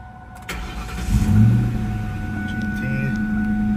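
A 2004 Ford Mustang GT, 40th Anniversary edition with about 9,000 miles, cranks briefly and fires up. It settles into a smooth, low, steady idle heard up close, with a voice speaking briefly.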